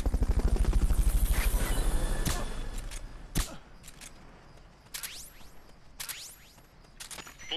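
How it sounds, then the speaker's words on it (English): Helicopter during a Fulton recovery in Metal Gear Solid Peace Walker: loud rhythmic rotor thumping at first that fades, followed by sharp mechanical clicks and swishes. "Fulton recovery subject confirmed onboard helicopter."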